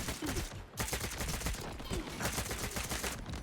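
Combatant weapon fired in the video game Stalker 2, a loud close burst of rapid gunfire that breaks briefly and resumes in dense repeated volleys.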